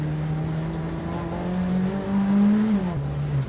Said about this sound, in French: on met un petit coup de gaz.